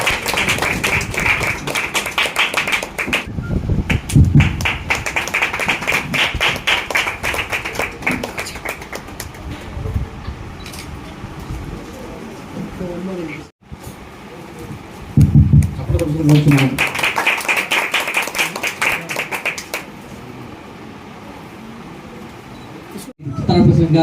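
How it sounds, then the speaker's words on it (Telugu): Bursts of applause from a crowd at a trust inauguration ceremony, with two long rounds of clapping separated by quieter stretches of murmuring voices and room noise. "చప్పట్ల కోసం కోరుచున్నాము."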